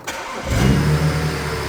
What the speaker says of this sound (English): Try to keep it alive with the throttle.